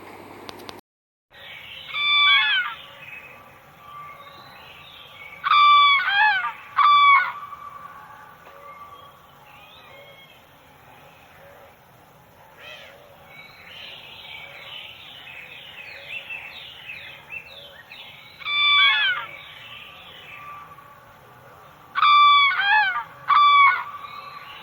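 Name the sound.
crane bird calls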